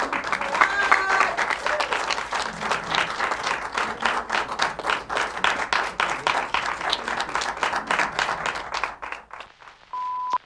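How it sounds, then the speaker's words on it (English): A theatre audience bursts into lively applause with individual claps audible, fading out near the end, after which a faint tone sounds alone. "All right, a big round of applause, everyone."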